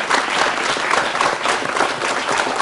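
Students at a Malaysian campus talk-show recording give a sustained round of applause, a dense, even crowd clapping that holds steady throughout.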